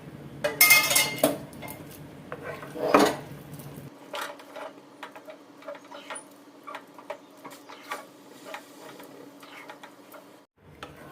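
A spoon stirs semolina with hot water in a kadhai, clanking loudly against the metal pan at first, then settling into softer, irregular scraping and ticking.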